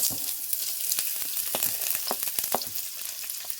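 Chopped onions fry with whole garam masala in hot oil, giving a steady close sizzle with scattered pops and the occasional stirring scrape.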